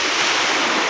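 Sea waves breaking on the shore at Puri beach, a steady broadband wash of surf with some wind noise on the microphone, loud and continuous throughout.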